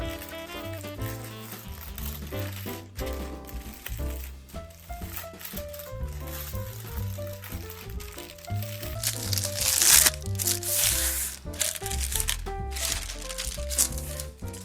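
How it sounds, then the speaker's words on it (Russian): Paper crinkles and rustles as a filled roll is rolled up tightly with it, steady close crackling under continuous background music. "Переворачиваем лист короткой стороной к себе и начинаем с помощью бумаги сворачивать в рулет"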